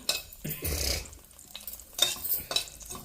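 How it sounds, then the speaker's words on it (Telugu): Ingredients sizzle and crackle in a pan, with bursts of spattering and scraping stirring noises rising and falling in short loud surges over a few seconds. "కొంచెం వాటర్ ఉన్నట్టున్నాయి చిట్ చిట్ చిట్ చిట్ అంటుంది"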